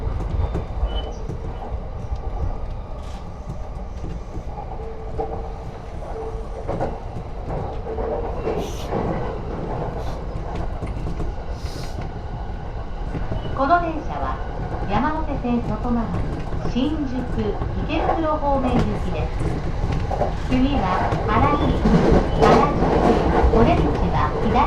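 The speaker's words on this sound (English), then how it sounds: "This is a Yamanote Line train bound for Shinjuku and Ikebukuro." A Yamanote Line commuter train riding from Shibuya toward Harajuku, heard from inside the car: a steady rumble, rhythmic clickety-clack of wheels and rising, squealing motor whine as it accelerates, with onboard announcements and voices over the noise.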